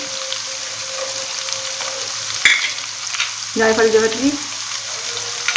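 Spices including nutmeg and mace are roasted in oil for degi chana pulao, producing a steady close sizzle with stirring scrapes and a sharp clink partway through, while a voice speaks briefly over it.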